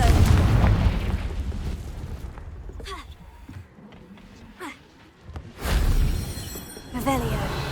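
Confringo fire-blast spell in Hogwarts Legacy going off with a loud, heavy boom at the start, quieter crackling bursts in the middle, then another strong blast near the end, mixed with game voices.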